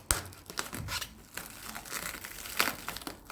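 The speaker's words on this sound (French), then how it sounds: "Je vais ouvrir la cagette." Close crinkling and tearing as a fruit and vegetable crate is opened, short crackly bursts with a sharper snap near the end.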